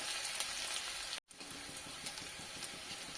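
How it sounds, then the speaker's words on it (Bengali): Chopped onion fries in a pan with a steady, soft sizzle and faint stirring, heard close but quietly, with one brief dropout partway through. "এটা কিছুক্ষণ ভেজে নেব, খুব লাল লাল করে ভাজবো না, হালকা ভেজে নেব"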